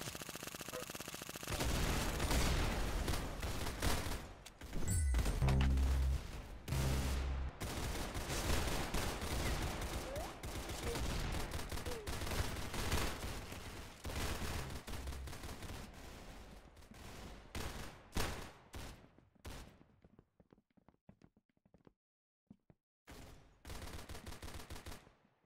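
Rapid bursts of gunfire from the first-person shooter Arsenal fill most of the stretch, with dense automatic fire early on and sharper, more scattered shots later, then a few final bursts after a brief lull.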